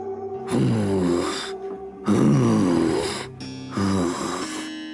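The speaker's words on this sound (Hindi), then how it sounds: "तभी उन दोनों को किसी के सांस लेने की भयानक आवाज सुनाई दी।" Deep, heavy rasping breaths in a horror story, three long drawn cycles with short pauses between, close and loud and heard alone, with a snore-like guttural rattle.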